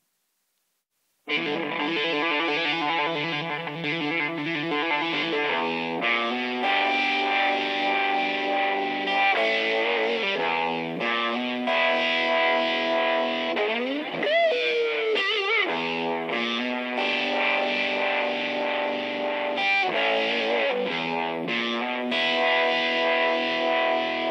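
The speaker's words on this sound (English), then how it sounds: "now I'll switch it to the distortion into overdrive" An electric guitar plays through a TC G-System with distortion into overdrive, a thick fuzzy sustained tone with chords and bends, steady and loud throughout.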